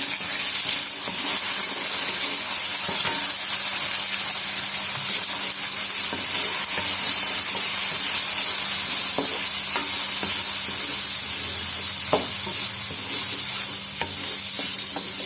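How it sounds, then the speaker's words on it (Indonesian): Long beans stir-frying in a cooked spice paste for an East Javanese vegetable dish, with a steady close sizzle and occasional scraping stirs of a utensil against the pan throughout. "Setelah bumbunya matang, saya masukkan kacang panjang."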